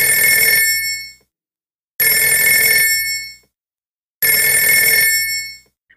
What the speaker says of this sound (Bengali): উপর থেকে ফোন আসলো